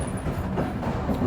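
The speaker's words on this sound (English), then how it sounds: "This train is working hard." A train hauled through Croatia, heading from Zagreb toward Bosnia, gives a steady, loud rumble of rolling wheels and carriage noise. The sound runs continuously and close for the whole short stretch.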